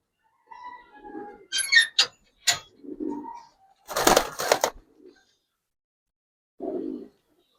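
Pigeons coo in short, soft, throaty bursts, close and loud, separated by brief pauses and a longer gap before a final coo.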